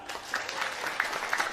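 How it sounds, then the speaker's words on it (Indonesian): An audience at a religious lecture gives a short burst of clapping, moderately faint and scattered, lasting just over a second. "Tepuk tangan."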